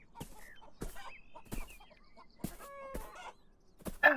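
Chickens give a few short, scattered clucks and squawks at close range, spaced irregularly with quiet gaps between them, one sharper call near the end.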